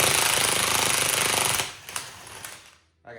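A cordless DeWalt power tool hammers loudly and steadily at close range, as in a transfer case rebuild. It cuts off after about a second and a half, leaving a few clanks and rattles, then a short burst near the end.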